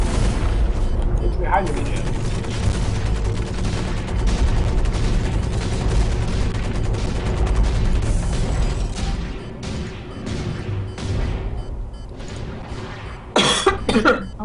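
Gunfire and booms from mech combat in the online shooter Hawken, a dense continuous rumble of shots and blasts with occasional sharper bursts, while a player talks over it.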